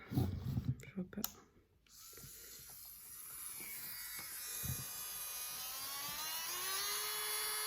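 An electric sander switches on after some handling noises and a brief pause, then spins up into a steady, faint, rising whir that keeps running to the end.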